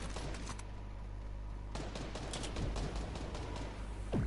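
Distant gunfire in the video game Fortnite pops in scattered bursts over a steady background rumble, faint and without speech.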